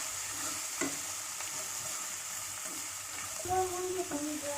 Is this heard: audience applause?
no